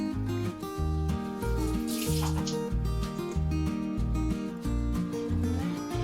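Water runs and splashes continuously into a mixer jar, with a rhythmic low thumping pattern underneath throughout. The water is left over from boiling spinach.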